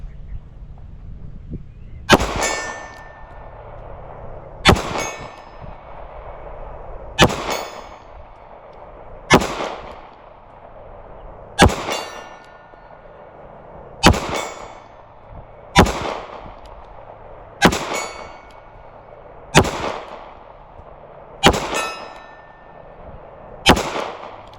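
An S&W Bodyguard 2.0 pistol fired at a steel silhouette 50 yards away, about ten sharp cracks spaced a couple of seconds apart, each followed by a ringing metallic clang and a short decay.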